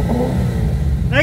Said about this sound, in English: Give it a rev